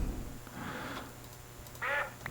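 Duck quacking in a Minecraft-style blocky survival game, two bursts of quacks, the second louder and closer, with quiet game ambience in between.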